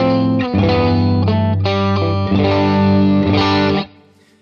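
Electric guitar played through a Fractal FM3 cabinet simulation with a short plate reverb, a few distorted, chorus-tinged chords and sustained notes ringing out loud and close before fading away at the end.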